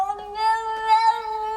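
Martin Locke's cat lets out one long, drawn-out meow, tonal and wavering, close and clear against a quiet background.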